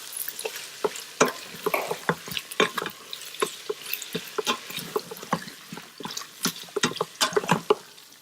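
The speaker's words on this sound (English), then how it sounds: "Now add marinated meat. And mix it thoroughly." Marinated minced lamb is stirred in an Instant Pot, giving a series of irregular wet squelches and scraping knocks, close and fairly quiet, with short pauses between strokes.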